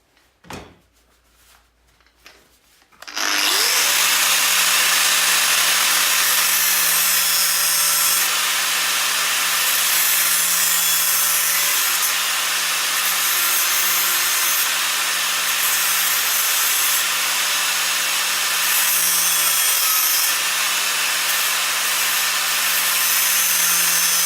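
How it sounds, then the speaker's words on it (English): A metal firebox door part for an offset smoker is cut: a brief quiet clatter, then a loud, steady, droning power-tool whine that runs without a break to the end. "this is where I'm going to cut the end off"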